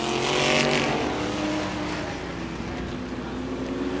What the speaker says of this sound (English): they're racing hard here off the 4th turn